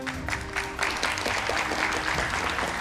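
A studio audience at an Indonesian political talk show applauds the guests, with steady, crisp clapping that swells and holds for about three seconds.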